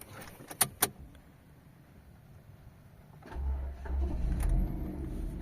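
Soft key clicks and rattles come first in a 2012 Mazda 2 city car, then the engine turns over and settles into a low, steady idle rumble, fairly quiet and with no talking.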